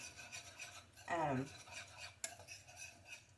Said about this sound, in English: we're going to give that a good mix